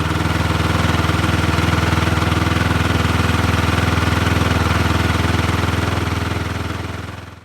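A snowmobile engine idles nearby at an extremely cold winter camp, giving a loud, steady mid-pitched chugging drone that holds evenly before fading out at the end.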